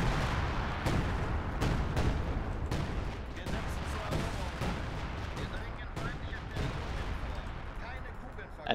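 Artillery and gunfire in Company of Heroes 2, a run of sharp booming impacts at irregular intervals over continuous rumbling battle noise, with players talking underneath.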